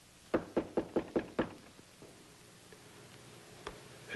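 A rapid series of six sharp knocks on a door, close and distinct, followed by quiet room tone and one more faint tap near the end.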